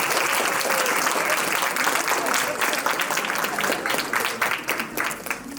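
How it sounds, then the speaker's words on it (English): An audience applauds at a prize distribution event, a sustained dense clapping that stays loud throughout and thins out slightly near the end. "So give yourself a big round of applause."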